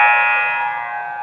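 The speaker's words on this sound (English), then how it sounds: "That buzzer is to let the teams in the locker room know it's time to get on the ice." Arena buzzer at a girls' varsity hockey game signaling teams in the locker room to take the ice: one sustained, loud electronic buzz with dense harmonics, holding steadily and fading slightly over its length.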